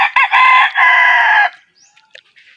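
A rooster crows loudly and close in two long bursts, followed by faint scattered clucks from chickens at a Filipino backyard coop.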